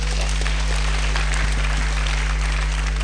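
A church congregation claps for Jesus during a Sunday service, a dense, steady wash of applause filling the room from start to finish over a low electrical hum.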